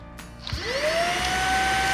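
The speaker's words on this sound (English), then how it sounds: "Here's the main vacuum itself." A Greenote cordless vacuum cleaner switches on with a trigger, its motor whining up from a low hum to a steady high-pitched whir that holds close and loud.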